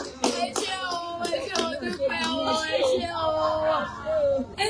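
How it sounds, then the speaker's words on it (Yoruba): Members of a church congregation clap their hands in praise, a run of sharp claps heard beneath loud talking and voices, with a child's cry mixed in. "Ẹ bá ń pàtẹ́wọ́ fún Jésù."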